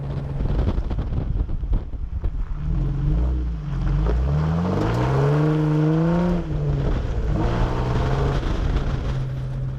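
Jeep JKU engine climbing through an off-road trail, a steady low rumble that rises and falls in pitch with revving, buffeted by heavy wind noise across the microphone.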